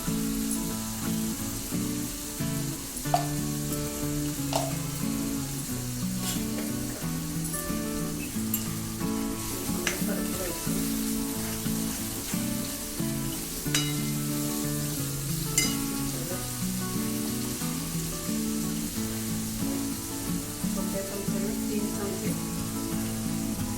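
Spice masala with chili powder frying in a pan for Marathi aamti, a continuous close sizzle and crackle with intermittent scraping stirs throughout.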